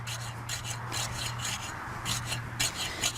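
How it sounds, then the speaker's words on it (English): A garden rake scraping through loose, worked soil while preparing rows for planting onions, giving a series of close, dry raking strokes at an uneven rhythm, with a steady low hum running underneath. "And then I'm going to rake this out."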